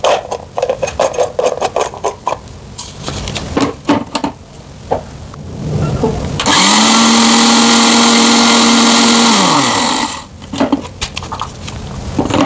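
An electric grinder mill powders about 40 to 50 grams of grain, a loud, steady high whine that runs for a few seconds and then winds down, preceded by clattering and handling noises.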